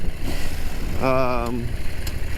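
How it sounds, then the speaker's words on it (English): Motorcycle engine revving while riding in fifth gear, a steady drone with a rising, wavering harmonic whine for about half a second, heard up close with no talking. "You're sort of revving at about 90 to 100, whereas this bike's capable of 160, 170k."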